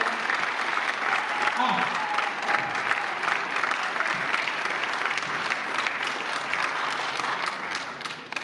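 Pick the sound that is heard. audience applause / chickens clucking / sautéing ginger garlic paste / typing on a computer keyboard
audience applause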